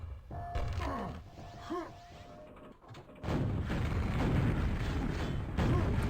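Quad-damage rocket explosions in a Quakeworld 2on2 match, with small mechanical clicks and pops first, then a loud, sustained burst of blasts and rumbling that fills the second half.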